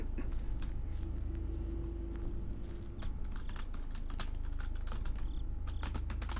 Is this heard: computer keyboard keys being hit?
yes